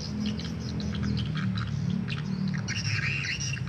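A swiftlet lure call plays inside a swiftlet house, a dense run of loud chirps and twittering squawks overlapping continuously, close and without pause.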